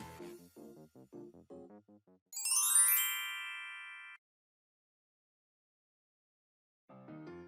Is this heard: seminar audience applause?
no